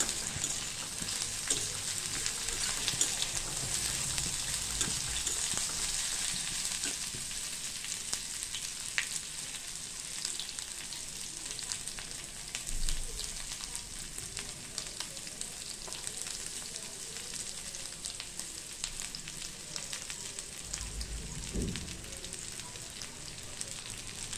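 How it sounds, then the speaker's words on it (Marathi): Dried bombil fish fries in oil in a pan, giving a steady, fairly soft close sizzle with fine crackling throughout and occasional low clunks of handling, no one speaking. "तेलामध्ये असा चांगला खरपूस बोंबील भाजून घ्यायचा आहे आपल्याला"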